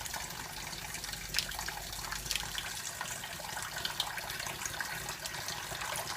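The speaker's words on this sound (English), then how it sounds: "Run them under a bit of cold water, tap them on the side and just peel them into a container." Cold water runs steadily from a kitchen tap over freshly boiled eggs in a sink, making a continuous close splashing rush with no one speaking.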